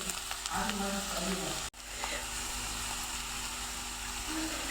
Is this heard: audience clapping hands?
no